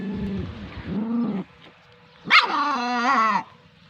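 Dogs in winter give two short bursts of barking and whining, close and fairly loud, separated by a brief quiet gap.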